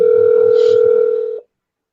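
A steady telephone tone while placing a call, loud and continuous for about a second and a half before cutting off abruptly into silence, with no voices.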